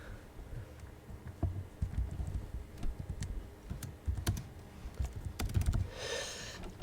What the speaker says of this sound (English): I'll type in Microsoft